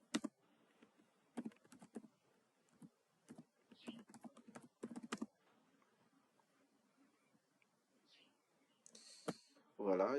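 Typing a name into a CV on a computer keyboard gives bursts of quick, close, crisp key clicks separated by short pauses in a quiet room, with a voice speaking briefly near the end.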